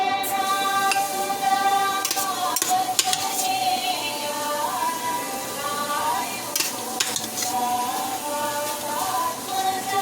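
Broad beans poriyal fries in a pan with a steady bright sizzle while a utensil scrapes and clinks against the metal in irregular strokes, close and continuous, with faint voices in the background.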